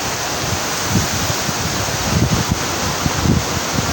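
A strong river current rushes steadily past at Southville, a broad, continuous roar of flowing water with faint low rumbles and no voices.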